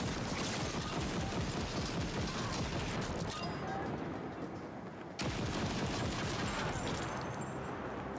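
Rapid, sustained enemy gunfire in the video game The Ascent crackles as a dense fusillade, briefly thinning before resuming at full intensity with mechanical clatter throughout.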